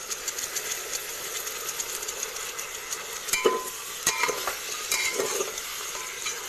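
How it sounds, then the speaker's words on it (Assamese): Mutton curry with tomatoes is stirred in a pan, giving a continuous soft sizzle with scraping spoon strokes and a few clinks against the metal, moderately quiet and close. "ভালকৈ লৰাই ল'ব।"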